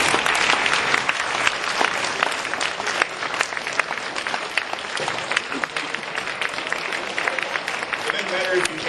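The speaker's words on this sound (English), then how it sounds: "let's give them all a round of applause" Sustained, loud round of applause from a crowd at a peace fair and dinner, dense steady clapping filling the whole stretch with a few voices mixed in.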